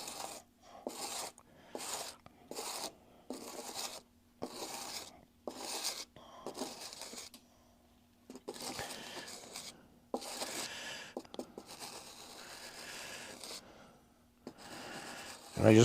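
Grout being spread and smoothed over a cement plant model: repeated short rasping, scraping strokes in bursts with quiet gaps, close by, and later a longer continuous rub.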